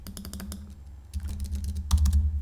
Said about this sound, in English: Just keep typing in, double click, type name, click return.